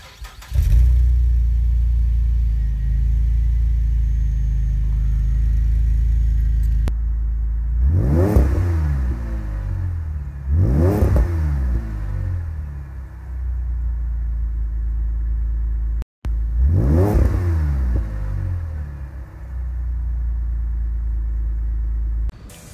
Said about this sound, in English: this is a V6, but actually sounds pretty nice for a V6